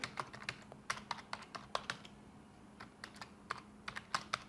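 Someone types an email address on a computer keyboard, quick irregular clusters of close, crisp key clicks with brief pauses between bursts over a faint background hum.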